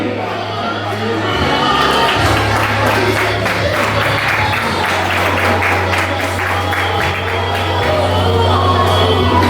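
An audience at a slam poetry contest breaks into loud, sustained applause, dense overlapping clapping that fills the room with a steady low hum running underneath throughout.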